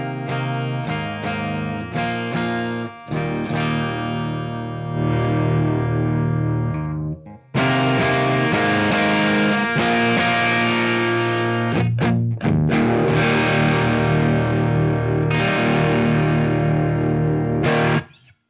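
Electric guitar running through an Electronic Audio Experiments Citadel pedal into a UA OX Stomp, with the volume rolled back for a cleaner tone. Loud strummed chords ring and sustain in a steady rhythm, broken by a brief gap, with no talking.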